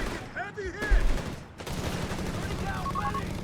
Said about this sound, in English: .30 cal there unleashing hell upon the assault grenadiers